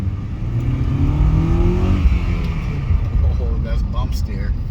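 A project Honda Civic on its first test drive in a year, its engine rumbling and revving loudly from inside the car while people talk over it.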